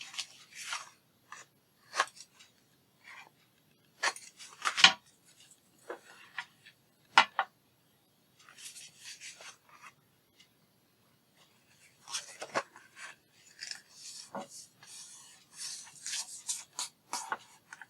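A journal page being trimmed, with short sharp cutting snips and scraping strokes in irregular bursts separated by quiet gaps, close and moderately loud.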